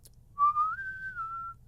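Up close, a person whistles a single clear note that rises, holds for about a second and dips slightly at the end, imitating a reported Bigfoot whistle over a faint low hum.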